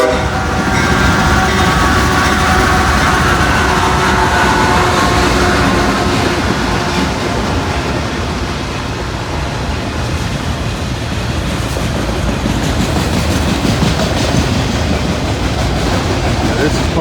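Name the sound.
freight train passing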